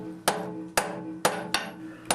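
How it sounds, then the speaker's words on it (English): A blacksmith hammers hot steel during forge welding, with five loud, ringing strikes on the anvil at a quick, slightly uneven pace, close up and with no talking. "I hammer quickly, return it to the fire, and take another heat."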